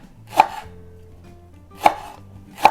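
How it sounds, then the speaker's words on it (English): A knife slices leeks thinly at an angle, three sharp separate cuts against a board with quiet gaps between them. "So slice all of your leeks"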